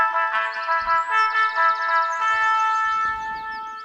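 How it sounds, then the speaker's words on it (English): A melodic bell chime over loudspeakers calls pioneers to lunch in the video game Everlasting Summer, sounding as a sustained, ringing tonal phrase with a few soft thumps beneath it. "the bell sound calling pioneers to lunch came from the loudspeakers"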